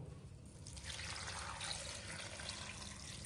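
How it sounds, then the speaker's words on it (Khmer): Water pours steadily into a pot of lemongrass leaves being prepared for lemongrass oil. It sounds like a close, continuous splashing rush that starts softly and grows fuller after the first second. "បាទប៉ុណ្ណឹងខ្ញុំចាក់ទឹកចូល"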